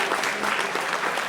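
Audience applause welcoming dignitaries at a Ministry of Micro, Small and Medium Enterprises event at DBIT, a steady dense wash of clapping throughout the short moment with no break.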